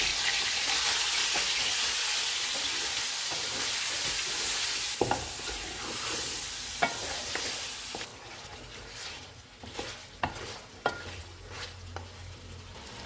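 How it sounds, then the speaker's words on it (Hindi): Mutton sizzles loudly in a pot over a full flame, a dense steady frying hiss at first, then quieter sputtering with sharp scrapes and clacks as a spoon stirs the meat. "मटन डालेंगे, चूल्हे को फुल रखेंगे और इसको 4 से 5 मिनट तक भूनेंगे।"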